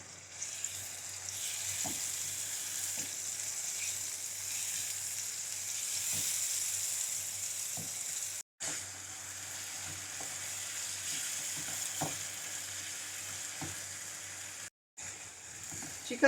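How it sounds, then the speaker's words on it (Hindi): Chicken sizzles steadily as it fries in a pan over a high flame for tandoori chicken rice, with soft scraping clicks of the pieces being turned over and two brief breaks in the sound. "हम चिकन को हाई फ्लेम पर 3 से 4 मिनट अलट पलट करते हुए फ्राई करेंगे।"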